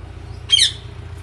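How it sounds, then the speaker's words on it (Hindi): A parrot at Lahore Safari Zoo gives a single loud, harsh squawk of about a third of a second, close by, over a steady low rumble of crowd and background noise. "ये वो वाले पैरट हैं"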